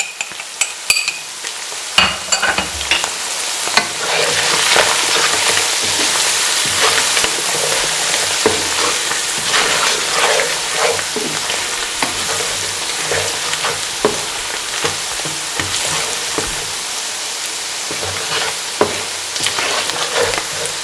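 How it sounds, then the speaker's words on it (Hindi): Ground turmeric, black pepper and coriander powder sizzle and fry with chicken in a pan for a Pakistani chicken bhaji, a steady close crackle broken by repeated stirring scrapes, with no talk. "बस हल्के से मसाले इसमें फ्राई करने हैं"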